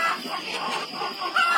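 Chickens on a poultry farm cluck and murmur close by. The mixed bird chatter is irregular and continuous, with no voices.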